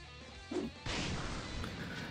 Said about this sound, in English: she easily shatters the boulder before it can reach you